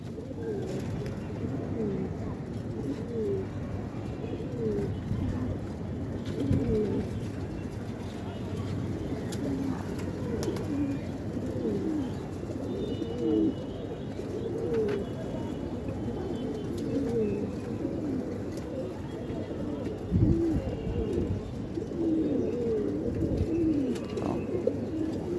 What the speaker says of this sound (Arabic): اهو في حمام جاي من ورا اهو، مش بتاعنا.